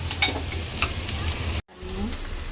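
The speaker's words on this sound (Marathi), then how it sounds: "कांदा आपण चांगला तेलामध्ये फ्राय करून घेतोय, लाल तांबूस होईपर्यंत." Onion frying in oil until reddish-brown for an egg curry, a close, steady sizzle with spatula stirring, cut by a brief silent gap before the frying sound resumes.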